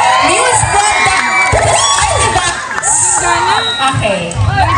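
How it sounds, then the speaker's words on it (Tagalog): A large awards-night audience shouts and cheers loudly and continuously, with whoops and high children's yells in a dense, close crowd roar. "pwede bang makarinig ng malakas na sigawan para sa ating news product?"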